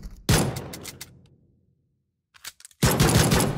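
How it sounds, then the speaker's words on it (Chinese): Pistol shots fired in the mobile battle game Peacekeeper Elite: a rapid burst of loud close shots that fades into silence, a few faint clicks, then another loud volley. "看我用小手枪制裁你"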